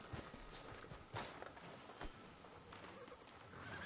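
A horse walking in the Red Dead Redemption video game, a few sparse hoof clops over a steady ambient bed of outdoor game noise.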